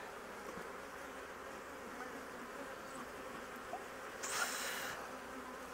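Bees buzz around an open beehive, a faint steady drone of many insects close by, with occasional light knocks and a short burst of hiss near the end.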